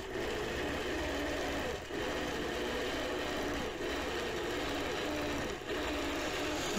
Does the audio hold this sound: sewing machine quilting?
yes